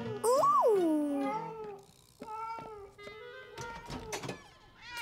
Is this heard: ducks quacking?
no